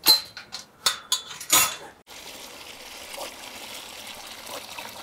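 Water trickles and splashes into a dog's bowl outdoors at an East Los Angeles home, a few clinking pours up front, then a steady soft trickle continuing alone.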